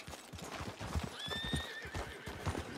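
Steady clip-clopping hooves with a loud, drawn-out horse whinny partway through, close and clear, no talking.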